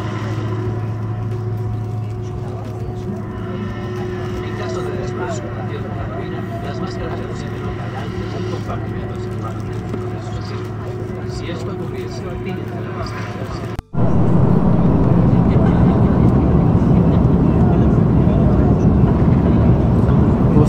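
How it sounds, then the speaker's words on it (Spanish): Airliner taking off from an airport in Guatemala at night: cabin hum with steady low tones, then a sudden jump to a loud, broad engine roar that holds to the end, with talk heard over the quieter start. "Justamente ahora estamos despegando del aeropuerto Agrora de Guatemala"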